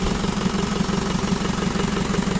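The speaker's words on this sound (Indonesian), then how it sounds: "untuk mesin sudah hidup" An Isuzu Panther diesel engine idles after repair, with a steady, close, rhythmic clattering throb and a constant low rumble and no pauses.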